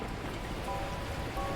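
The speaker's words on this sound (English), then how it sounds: "That moment, the heavens opened up, unleashing torrential rain." Heavy, torrential rain pours in the video game Beacon Pines, a steady dense wash of drops with faint tonal hints, continuous and fairly close, with no talking.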